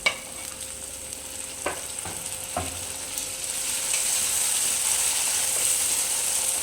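Chopped tomato goes into a potato curry cooking in a pan and is stirred, with a steady sizzle of frying under a few scraping knocks of the spoon against the pan.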